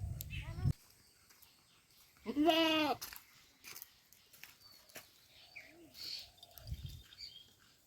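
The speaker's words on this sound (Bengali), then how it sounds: "এবার এই ছাগল কার এটা?" A goat lets out one loud, wavering bleat close by, with fainter animal calls and people talking around it on a farm.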